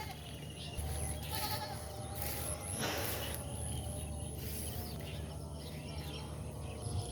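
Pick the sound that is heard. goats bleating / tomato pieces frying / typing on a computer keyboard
goats bleating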